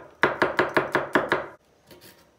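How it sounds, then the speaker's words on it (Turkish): A knife chops garlic finely on a board in seven quick, evenly spaced sharp strikes, followed by a few softer scraping taps. "Hemen sarımsakları ince ince doğruyoruz."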